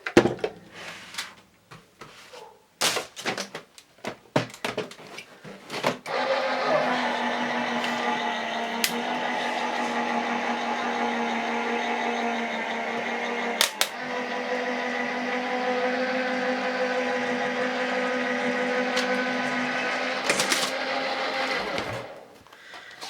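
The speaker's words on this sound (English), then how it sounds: "So I'm just gonna run this through my die cutting machine." Die cutting machine whirring steadily for about fifteen seconds as cardstock feeds through, preceded by clicks and handling noises and ending abruptly.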